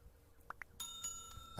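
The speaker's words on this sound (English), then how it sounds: "hit the bell icon for notifications." A notification bell sound effect chimes close and clear, two short dings followed by a longer ringing bell tone that sustains to the end, with no talking over it.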